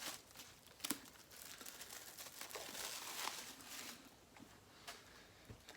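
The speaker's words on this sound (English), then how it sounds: "I only cut the plastic, I never cut the book." Plastic shrink wrap being cut and peeled off an Easton Press edition of The War of the Worlds, producing soft, close crinkling and tearing rustles, fairly quiet and continuous.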